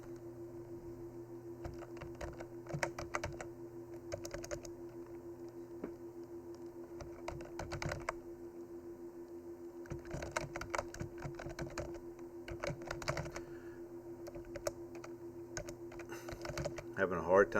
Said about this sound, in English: Having a hard time typing today.